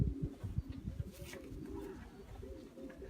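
A pigeon coos in a loft in the Netherlands, soft repeated throaty calls near the start and then quieter murmurs, faint and close.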